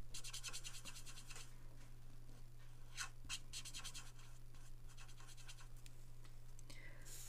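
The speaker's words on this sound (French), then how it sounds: "Je vais finir de colorier ça." Colouring pencils or markers scratch across paper while filling in a drawing of Halloween sweets on a card, with close, repeated rubbing strokes in bursts and short pauses.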